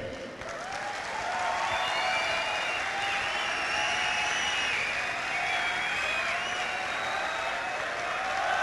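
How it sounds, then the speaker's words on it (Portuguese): A crowd at a conference event applauds PC Siqueira, dense, sustained clapping that swells in after a moment and holds steady throughout, with faint crowd murmur beneath. "Eu queria uma salva de palmas bem grande, tá certo? Primeiro para o PC Siqueira."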